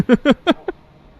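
Dogs barking in a video game: four short, sharp barks in quick succession, close and clear, then quiet.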